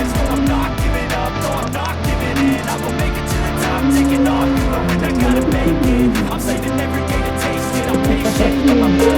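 A race car in the Le Mans Ultimate video game at Le Mans brakes hard into the last corners, its engine roaring and dropping in pitch under someone speaking French throughout.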